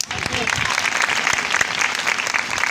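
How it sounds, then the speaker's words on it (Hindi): Clapping from an audience at a religious talk, a dense burst of applause with some sharper individual claps standing out and faint voices mixed in. "आप इस बात में ताली बजा सकते हैं।"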